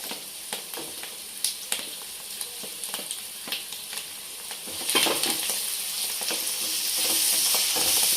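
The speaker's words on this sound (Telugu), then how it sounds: "ఆలు ఫ్రై కావడానికి కొంచెం లేట్ అయింది" Potatoes frying in a pan make a crackling sizzle broken by sharp stirring clicks, and the sizzle swells and grows louder over the last few seconds. No one talks.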